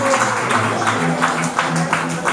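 A crowd at a boxing event applauds a fighter after the final bout, steady clapping with a few sharper individual claps, over a low tonal hum and a faint voice.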